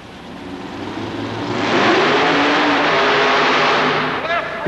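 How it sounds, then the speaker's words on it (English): A nitrous oxide injected big block Chevrolet mud racer makes its run at a Vermont mud race, its engine roaring loudly as it builds, then a skidding power slide stop, with an announcer talking over it. "He locks it up and power slides it to a stop. This nitrous oxide injected big block Chevrolet machine is plenty strong."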